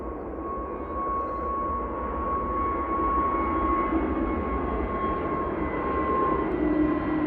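Airbus A320neo jet taking off at Manchester Airport in the evening, a loud steady engine roar and whine that builds gradually, heard from a distance with no voices.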